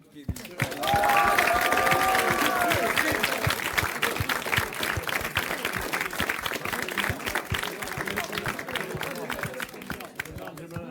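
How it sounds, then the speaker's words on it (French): Audience applause closing a Téléthon Gaming 2025 charity stream, a dense, steady patter of many hands starting after a second and holding fairly loud to the end, with faint crowd babble and cheering mixed in. "je pense qu'on peut s'applaudir"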